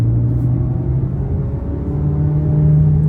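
A Ford Maverick pickup fitted with an aftermarket exhaust cruises with a steady, throaty low drone that holds and then rises a little near the end, heard alone without voices.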